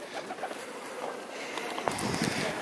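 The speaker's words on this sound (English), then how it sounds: "I don't want to touch the pigeons." Pigeons in Venice cooing nearby, soft low coos repeating over outdoor city background noise, with a louder burst of activity toward the end.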